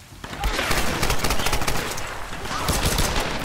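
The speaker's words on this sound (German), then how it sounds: "Da oben steht schon wieder einer, der auf mich, der auf mich schießt" Rapid automatic gunfire from enemies in the Tomb Raider video game, dense and continuous bursts dominating the mix, close and loud, with a voice talking underneath.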